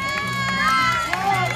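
A roadside cheer squad at a rainy Disney marathon yells and whoops for passing runners, a loud, close, sustained burst of mixed voices cheering with no clear words.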